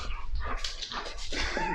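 A dog whimpers and gives a few short barks and yips, close by and fairly soft, lasting under two seconds.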